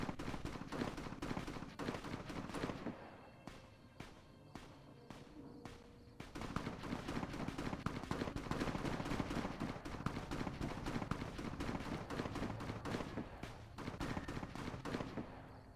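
Rapid, overlapping gunfire from a Fallout: New Vegas battle rattles almost continuously, loud and dense with sharp bursts, and briefly thins out near the six-second mark before resuming at full intensity.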